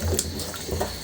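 Pumpkin pieces being washed by hand in water, rinsed and rubbed hard so no sticky sap stays on them; short splashy water sounds and light handling noises, close and moderately loud, with no talking.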